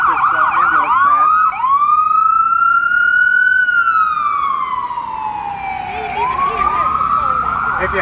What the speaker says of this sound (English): I'll let this ambulance pass.